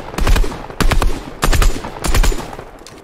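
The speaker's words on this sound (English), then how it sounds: "We're literally not gonna stop shooting." Bursts of automatic gunfire in Fortnite, four loud rapid strings of shots separated by brief pauses, close and punchy with no talking over them.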